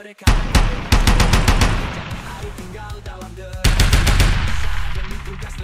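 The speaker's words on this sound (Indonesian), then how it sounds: "mengatur ritme tembakan mereka, memastikan setiap peluru mengenai sasaran" Rapid bursts of automatic gunfire crack loudly and close, a first volley, a brief lull with echoing rumble, then another sustained burst.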